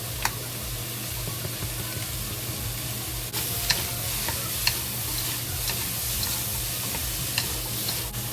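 Ham and celery fry in a wok with a constant loud sizzle, and light clicks and scrapes of stirring come through at intervals. No voices are heard.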